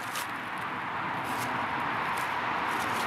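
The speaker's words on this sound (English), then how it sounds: "I'm sure you can hear that road in the background." Steady broadband wash of road traffic heard from a narrowboat camping spot, a faint, unbroken hiss-like roar with no distinct passing vehicles and no talk over it.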